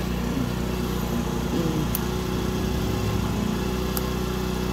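A motorcycle engine runs at a steady idle, a continuous buzzing drone held evenly throughout with a couple of faint clicks and no talking.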